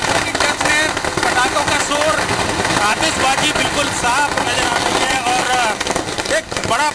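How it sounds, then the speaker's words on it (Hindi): Firecrackers and fireworks bursting in Bhopal during a Diwali-style BJP by-election victory celebration, dense crackling pops and bangs under a busy crowd with voices shouting and engines idling, loud and continuous. "पटाखों का शोर, आतिशबाजी बिल्कुल साफ नजर आ रही है"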